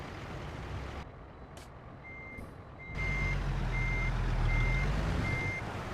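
Reversing alarm on a massive truck in American Truck Simulator, a steady series of evenly spaced beeps over a loud diesel engine rumble that rises partway through.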